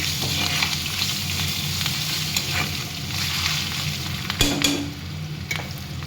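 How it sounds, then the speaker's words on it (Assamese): Sliced onions frying in a wok until turning reddish with bay leaves, dried chilli and cumin, a continuous close sizzle with stirring scrapes and a louder clatter near the end, no talking. "অকণমান ৰঙা কৰি ভাজি ল'ম।"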